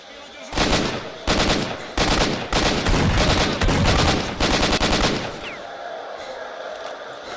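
Rapid bursts of automatic gunfire in the video game S.T.A.L.K.E.R.: Shadow of Chernobyl crackle in several loud volleys with short gaps between them, then stop abruptly, leaving quieter background noise.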